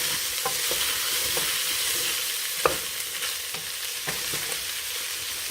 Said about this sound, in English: I'm going to stir this around.